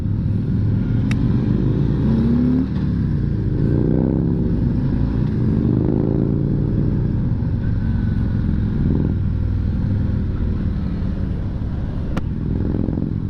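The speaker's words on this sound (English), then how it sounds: "that bike sounds good" A motorcycle on a road ride, a loud, close, continuous engine roar with wind rumble and gear-shift swells in pitch, steady throughout with no voices.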